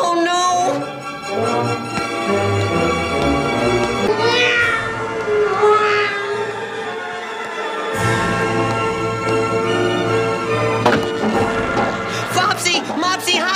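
A cartoon cat meows in a few drawn-out, rising and falling cries, heard up front over busy, continuous music.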